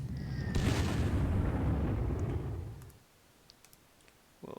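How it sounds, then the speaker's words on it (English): Bombardment explosion in the Panzer Corps strategy game: a loud, broad rumbling blast that sustains for about two and a half seconds, then fades to near silence with a few faint clicks. "We'll bombard that."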